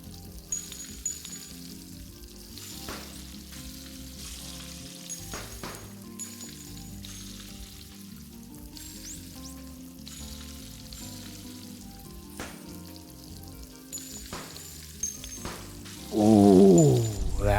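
Eggs frying in a pan in the video game Arctic Eggs, a soft continuous sizzle running under quiet background music, with a louder burst near the end.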